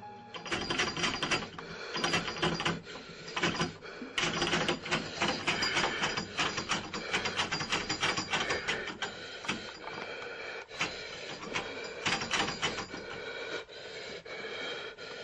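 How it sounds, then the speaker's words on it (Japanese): A door knob on a door, moving by itself, rattles and clicks mechanically in dense, irregular bursts throughout, close and fairly loud with no talk. "実はこのドアノブ、なぜか勝手に動いていて"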